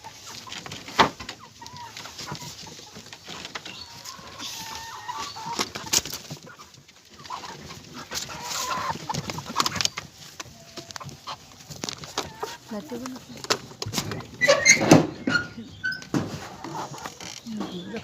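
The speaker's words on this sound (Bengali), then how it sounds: "মুরগি দেখুন কি করতেছে।" Hens kept for eggs cluck and squawk around feed, a busy, irregular flock chatter running throughout, with a voice talking over it.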